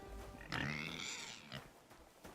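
A pig in the video game Kingdom Come: Deliverance 2 lets out a drawn-out, nasal grunting squeal, close and fairly loud, followed by a couple of shorter grunts.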